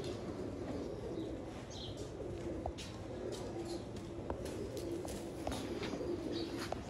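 Sialkoti pigeons kept in a loft, cooing softly in low, rolling calls over a steady background murmur, with occasional faint chirps and a flutter of wings.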